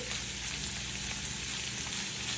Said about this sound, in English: So now that our pork is fully fried and fully browned